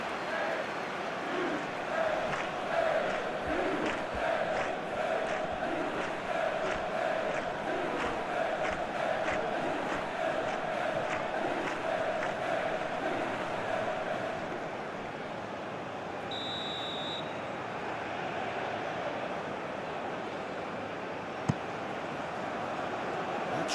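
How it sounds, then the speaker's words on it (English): Stadium crowd applause and cheering from an eFootball PES 2021 match simulation between USA and France at the World Cup, a steady broad roar that fills the whole stretch, dipping slightly near the end, with commentary voices over it. "it's applause all round us here"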